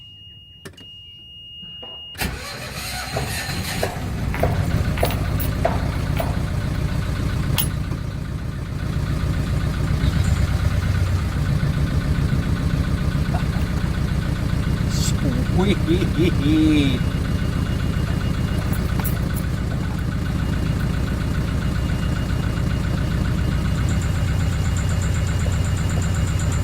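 A sailboat's engine starts with a short crank and settles into a steady, loud idle that continues throughout, with someone talking over it.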